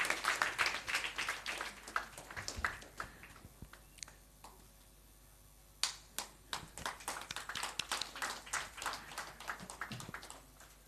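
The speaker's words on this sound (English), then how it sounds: "A big round of applause for him." Audience applauding at a pediatric intensive care medical conference, a scattered round of claps with a brief lull midway before the clapping picks up again, fairly distant and alone.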